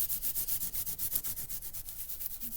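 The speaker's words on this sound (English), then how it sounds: "take one of these Scotch-Brites, these Scotch-Brite pads right here, and fold it in half and just really lightly" A folded Scotch-Brite pad rubbed lightly back and forth across guitar frets, giving a steady series of soft, close scratchy strokes in an even rhythm with no talk.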